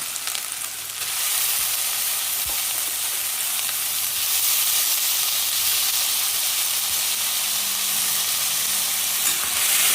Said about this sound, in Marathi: चांगलं भाजू द्यायचं. आता मसाला चांगला भाजला गेला.